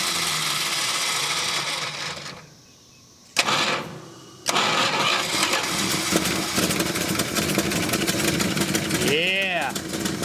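A 1971 Plymouth Roadrunner engine cranks and catches, dips briefly, then fires again and settles into a loud, steady, rough idle that keeps running.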